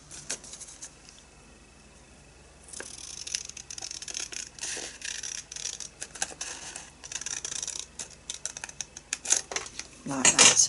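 Scissors cutting up through a folded 5 by 7 inch card along drawn lines for a birthday card, a run of short close snips and crisp crunches, fairly quiet with a louder flurry at the end.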